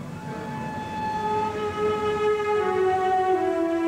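A Fiat Pendolino tilting train, the ElettroTreno Rapido 450, runs along the track with a steady rolling rumble. Several sustained whining tones rise and shift in pitch over the nearly four seconds.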